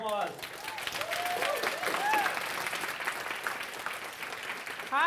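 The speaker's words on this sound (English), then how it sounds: "let's give her a round of applause" Audience applause at a tech conference talk, with dense clapping filling several seconds and scattered cheers or whoops rising above it.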